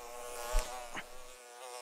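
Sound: flying insect buzzing

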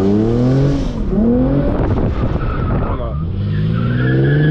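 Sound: Lexus RC 350 drifting in the rain, tires skidding

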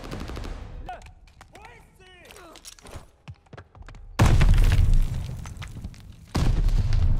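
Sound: gunfire in Call of Duty Vanguard, a video game

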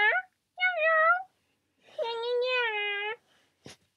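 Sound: person in a cat costume imitating cat meows

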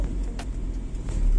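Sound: car engine revving during a hill start

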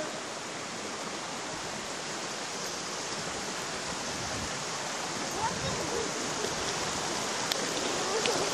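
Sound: river flowing in a forest

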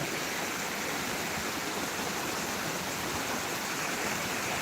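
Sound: water flowing out of a lake

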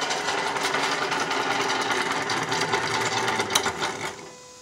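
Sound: Hyper9 electric motor on boat outboard running

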